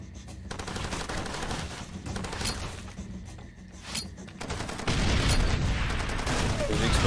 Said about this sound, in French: Pas mal de balles pour tuer un ennemi.